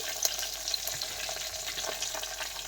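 Curry leaves dropped into hot oil for tomato chutney crackle and sizzle steadily up close, a dense frying hiss with a few brief spits, no one talking.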